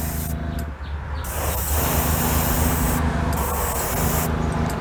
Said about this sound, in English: that spray is just wonderful right out of the bottle